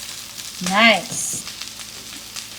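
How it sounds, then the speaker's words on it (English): Zucchini cakes sizzle softly in a hot frying pan with a steady, low hiss. A voice briefly speaks over the frying. "You hear it sizzling a little bit? Zucchini cakes."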